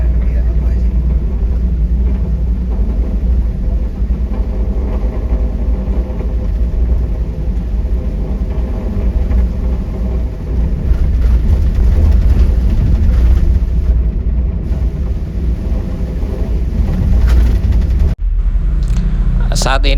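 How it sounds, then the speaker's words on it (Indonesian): Steady low rumble and road noise fill the cabin of a moving M-Trans Blue Lagoon intercity bus, droning continuously throughout with a brief jolt near the end, while passengers talk beneath it. "Saat ini bis yang saya naikin M-Trans Blue Lagoon"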